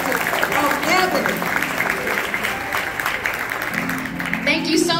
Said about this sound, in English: let's give a round of applause, the Mighty Shades of Ebony